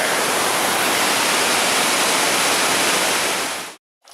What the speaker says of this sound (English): So you got waterfalls on waterfalls on waterfalls.